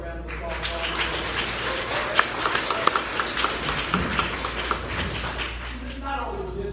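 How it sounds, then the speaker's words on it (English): A crowd applauds Doug Matthews at a Juneteenth celebration and re-enactment at Ashton Villa in Galveston, Texas. A steady wash of clapping runs throughout with scattered sharper claps, mixed with voices talking. "Doug, give Doug a round of applause."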